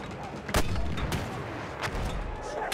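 Gunfire in the Battlefield 1 battlefield: a few sharp, loud shots spaced apart over a constant rumbling background of distant combat.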